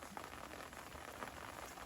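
Steady rain patters outdoors at a fishing lake, a dense continuous hiss of drops on surfaces at even loudness throughout.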